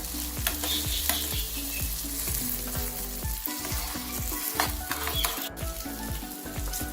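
Chopped tomato fries in a pan of hot oil with a continuous loud sizzle, while a spoon stirs and scrapes in repeated rhythmic strokes up close.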